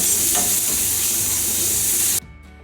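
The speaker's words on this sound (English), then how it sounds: "Saute this nicely in medium flame." Onion, ginger and garlic paste sautéing on a medium flame, a steady loud sizzle with stirring that runs unbroken for about two seconds, then cuts off abruptly to a much quieter tail.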